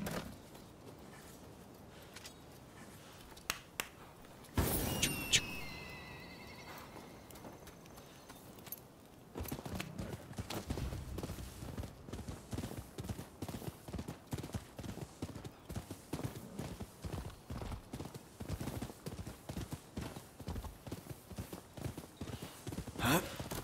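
Horse hooves in the video game Rise of the Ronin, a steady clip-clop gallop that runs continuously for most of the stretch after a brief burst of other game noise, close and fairly loud.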